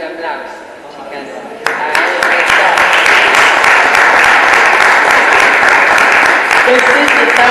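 Audience applause bursts in suddenly and settles into steady, dense clapping from a room at a panel debate on a new urban planning code, held loud to the end, with a speaking voice faintly underneath.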